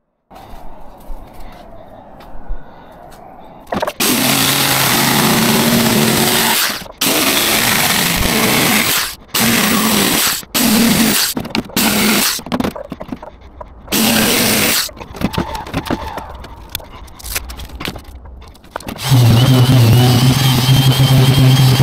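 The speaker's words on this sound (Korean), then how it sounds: "요거 톱으로 이렇게 모양대로 잘라서 오겠습니다." Someone cuts a piece to shape with a saw while building a homemade sprayer-blower rig, making loud, sustained bursts of harsh cutting noise broken by short pauses, with no talking.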